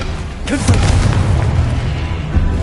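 A Confringo blasting curse explodes in the video game Hogwarts Legacy, a loud, close boom with a sharp crackling onset followed by a rumbling low tail that lingers under ongoing combat noise.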